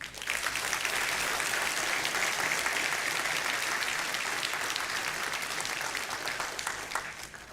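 Sustained audience applause fills an awards ceremony hall at a county sheriff's office event, a dense steady wash of many hands clapping that holds evenly for several seconds before tapering slightly.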